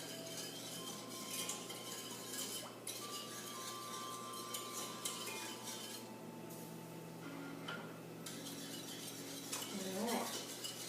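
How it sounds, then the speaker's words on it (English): A small whisk stirs sugar water in a pan to dissolve the granules for hummingbird nectar, giving soft continuous scraping and light metallic clinks, close and steady for the whole stretch. "I just use a little whisk and just keep stirring and stirring."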